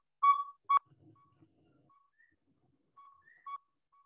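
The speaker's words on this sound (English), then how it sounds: "So we started by hearing the male call, and that's what I play to lure the owls in." Male northern saw-whet owl calls, played back as a recording: a few clear, evenly pitched toots in a short series, then fainter notes after a pause, alone and fairly close.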